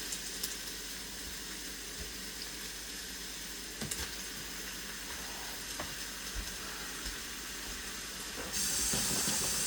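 A cheap piece of meat sizzles and fries in a pan with a steady close crackling hiss, a few sharp spatter pops, and louder bright hissing toward the end.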